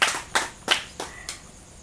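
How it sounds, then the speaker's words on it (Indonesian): About five sharp claps spaced roughly evenly, fading a little each time, close and fairly loud against a quiet room, more like one or two people clapping than a full audience. "Berikan tepuk tangan lagi dong."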